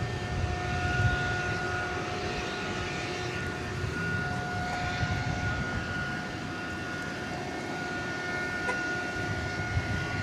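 An MD-11 jet being pushed back at DFW Airport at night sets up a low, steady engine rumble with sustained whining tones over it, heard from a moderate distance.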